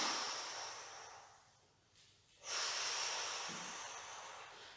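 A long exhale during a Pilates shoulder-focused exercise, a broad airy breath that fades out, then a second stronger breath after a short pause, close and alone without talk.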